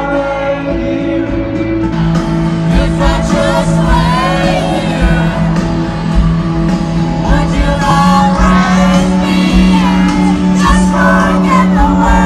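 Fans at a concert shout and scream over loud live music, their excited voices rising and falling throughout a packed, continuous roar.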